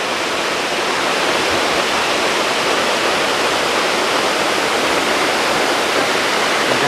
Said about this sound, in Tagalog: Kasi yung falls niya tumatama-tama sa mga bato-bato na parang dumadaan sa mga hagdanan.